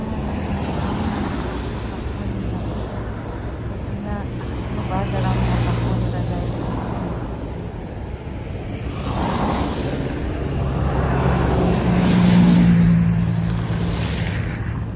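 Cars creep slowly along a snowy road, a soft rolling engine and tire hum that swells and fades as vehicles pass, with someone speaking quietly over it.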